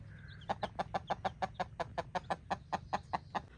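A hen in a village clucks in a rapid, even series of about fifteen sharp, close clucks over soft background hum.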